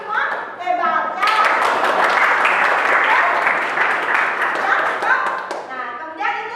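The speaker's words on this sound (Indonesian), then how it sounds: "tepuk tangan untuk kita semua karena kita semua hebat ya" Classroom of children bursting into hearty applause after a teacher's prompt, a dense wash of clapping lasting several seconds, with children's voices before and after.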